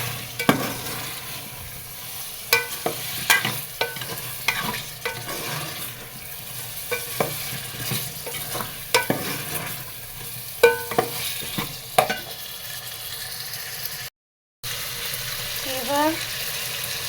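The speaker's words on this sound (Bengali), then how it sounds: "এবার এর ভিতরে কেটে ধুয়ে রাখা আলুগুলো দিয়ে দিলাম।" Cut, washed potatoes hit hot oil in a pan and fry with a steady sizzle, broken by repeated scraping stirs of a spatula, close and moderately loud, with occasional faint background noise.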